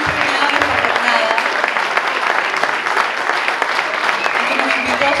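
Loud, sustained audience applause fills a wine awards ceremony, dense clapping continuing steadily throughout with a faint voice briefly over it.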